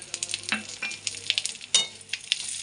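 Cumin seeds and a bay leaf drop into hot oil in a pan after potatoes are lifted out for spicy aloo dum, giving a light, crackly sizzle with scattered pops and soft stirring clicks, close and fairly quiet.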